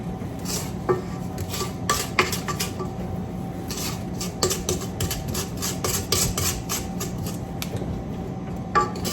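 A spatula scrapes around the sides of a metal mixing bowl of oatmeal raisin cookie dough, giving repeated close scraping and clinking strokes in an irregular rhythm with no talking.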